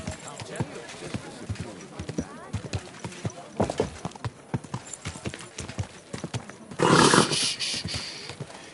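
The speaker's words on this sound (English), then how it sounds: "Easy, good horse." Steady rhythmic clip-clop of horse hooves throughout in the video game Kingdom Come: Deliverance, with a loud rushing burst near the end and a voice speaking over it.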